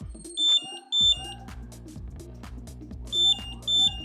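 A Bluetooth co-driver speed camera warning device in a car sounds two pairs of short, sharp electronic beeps, one pair at the start and another near the end, over a low background hum.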